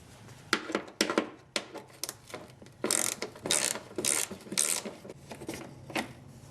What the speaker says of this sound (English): underneath the side skirt, you have a 8mm bolt you need to remove